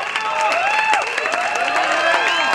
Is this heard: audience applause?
yes